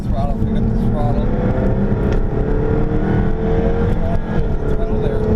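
The engine of a 2015 Jaguar F-Type R Coupe roars on a track, loud and steady from inside the cabin, its pitch climbing as it accelerates, while someone talks over it.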